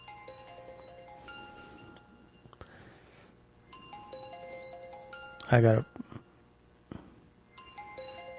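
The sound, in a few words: phone ringing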